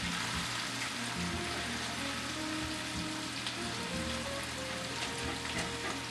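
Potatoes and sliced carrots fry in a pot for chicken pot pie, giving a steady, dense sizzle and crackle that holds evenly and close throughout with no pauses.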